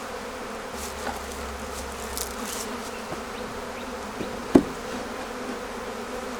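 Honey bees buzz in a dense, continuous drone around an open beehive during an inspection, with a single sharp knock partway through and no talking.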